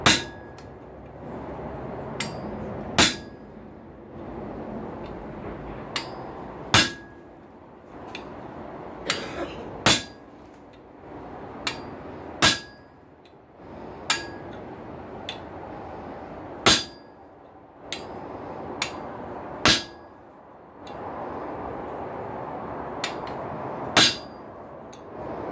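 A hammer strikes a hand chisel held on a rail spike over an anvil, giving sharp metallic clangs spaced a second or two apart, each ringing briefly against a quiet background.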